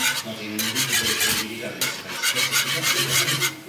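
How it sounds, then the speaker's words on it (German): Cream being stirred into a pan of shrimp sauce, a steady scraping rasp of the spoon against the pan in repeated strokes, close and fairly loud with no talk. "dann schüttet ihr die Sahne rein und jetzt erstmal schön umrühren"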